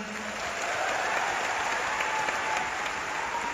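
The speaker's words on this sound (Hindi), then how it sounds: "एक बार उनके लिए जोरदार तालियां" Loud, steady audience applause fills a hall at a Delhi success day event in 2023, a dense continuous wash of many hands clapping together without a break and with no voices standing out.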